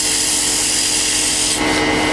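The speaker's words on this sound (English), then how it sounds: "I'm going to just sand it very quickly." Sandpaper rubs continuously over a spinning bocote wood drop pendant on a lathe, a loud, close, steady rasping hiss with no talking.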